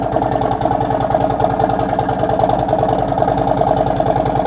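A car engine with an upgraded exhaust idles with a deep, rhythmic rumble and throaty exhaust pulses, steady and close, no voices.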